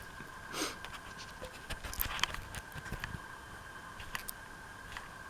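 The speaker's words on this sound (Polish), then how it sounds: "Piesek. Piesek na moim łóżku." Faint, fast panting from a dog lying on a bed, with soft scratches and rustles of bedding as it shifts, all under a steady background hiss.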